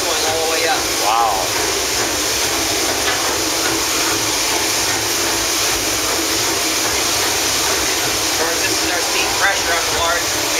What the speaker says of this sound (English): We have steam operated air pump.